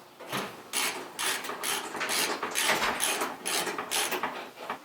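A ratchet tightens a sway bar bolt by hand on an S550 Ford Mustang during a Whiteline suspension install, giving a series of quick rasping clicks in short bursts, close and unaccompanied by talk.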